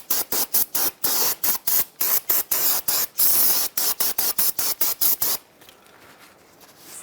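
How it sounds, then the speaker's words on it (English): Brake parts cleaner sprayed onto the front brake of a 2007-2013 Mitsubishi Outlander in many quick, loud hissing bursts, then a fainter steady hiss at the end. "now we're going to clean the front surface with some brake parts cleaner"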